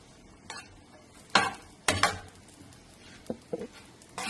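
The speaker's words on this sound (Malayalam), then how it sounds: "ഇനി ഇതൊന്നങ്ങ് ഇളക്കി കൊടുക്കാം." Cooked rice mixed with whole black peppercorns gets stirred in a pan, with a handful of separate scraping strokes and light clatter over a faint background hiss.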